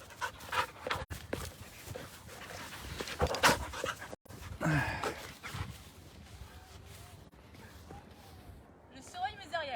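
A dog pants rapidly and steadily at close range, with occasional soft whimpers and brief rustles. The sound is fairly quiet throughout.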